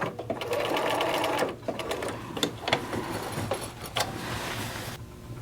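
A sewing machine runs steadily while stitching a raglan sleeve seam for a McCall's 7862 pattern, with a continuous close mechanical whir and brief slowdowns.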